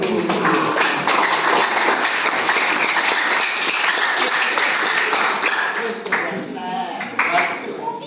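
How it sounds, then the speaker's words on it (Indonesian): Classroom applause from students, a dense patter of clapping that stays steady and fairly loud, then thins out toward the end. "beli tepuk tangan dulu yuk."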